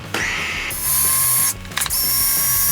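Blender whirring as it purées chicken livers and shallots into a smooth mousse, a steady loud motor drone with a brief pause and short bursts near the end as blending restarts.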